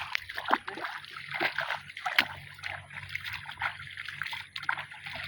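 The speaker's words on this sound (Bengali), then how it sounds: "ধামাটা ধুতে হচ্ছে।" Water splashing and trickling as a basket (dhama) is washed in a village setting, irregular close splashes and dribbles continuing throughout over a low background hum.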